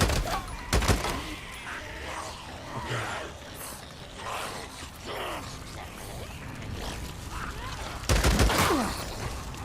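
Sharp gunshots in Days Gone at a lumber camp, two loud cracks near the start and end, set against creaking and mechanical clatter with someone talking in between.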